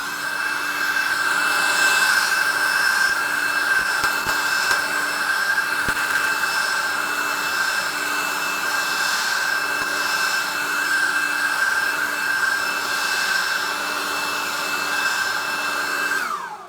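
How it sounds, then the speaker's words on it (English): A Webb ECO 20V handheld cordless leaf blower fitted with a 4 amp-hour battery runs at full power outdoors near leaves, giving a loud, steady high-pitched whine and rushing air that cuts off abruptly at the end. "I think for a handheld cordless blower, that is one of the most sort of powerful little ones I've used"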